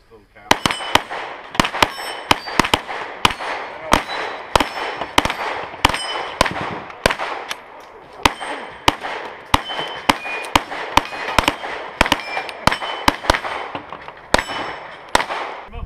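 Rapid gunshots ring out at an outdoor steel plate shooting range, a dense run of sharp cracks with metallic clangs from the struck plates, fairly close and continuing for the whole stretch.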